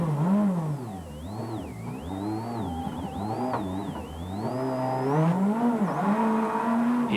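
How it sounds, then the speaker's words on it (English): A Peugeot 206 WRC rally car, stranded on a Catalunya rally stage in 2003, has its engine revving loudly and continuously, the pitch swooping up and down through repeated throttle blips with no voices. "now he struggles to restart the engine of his stranded 206"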